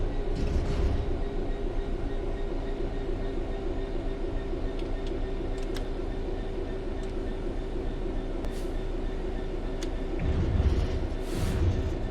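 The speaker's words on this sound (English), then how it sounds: "The train will then coast on level ground, and the train will only slow down very gradually." A diesel locomotive train coasts on level ground with the throttle at zero in Train Sim World 4, giving a steady low rumble of engine and wheels with faint clicks and rattles throughout, no talking.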